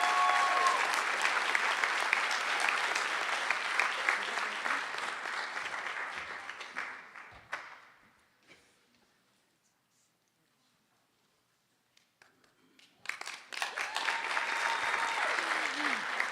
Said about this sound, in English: Please join me in giving a well-deserved round of applause for our second top graduate